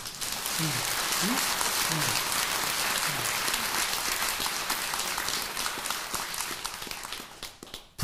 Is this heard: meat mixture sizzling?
no